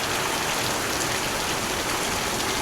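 Heavy rain pours down in a dense, continuous hiss during a thunderstorm at a car lot, loud and close with no breaks.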